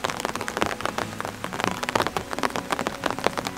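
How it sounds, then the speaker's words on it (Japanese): Rain patters densely on surfaces outdoors near a rural field, an irregular rapid stream of close drops with no one talking. "雨が続くので"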